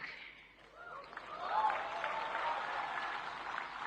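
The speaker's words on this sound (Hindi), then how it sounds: "लेकिन मैं देख रहा हूं पहली बार पुरुष ताली बजा रहे हैं" An audience of men claps at an International Women's Day awards event; the applause swells from quiet into steady, sustained clapping from a fairly distant crowd.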